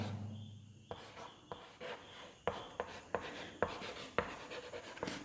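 Chalk or marker taps and strokes while writing out a math answer on a board for an inverse function problem: a series of about ten sharp, close ticks at irregular intervals with short scratches between, no talking.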